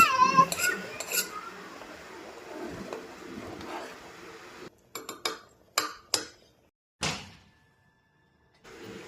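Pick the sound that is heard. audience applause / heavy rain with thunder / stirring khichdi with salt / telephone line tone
stirring khichdi with salt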